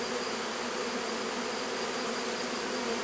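Bees buzz inside a hornet nest box in a dense, continuous swarm drone, moderately close and steady, with no voices.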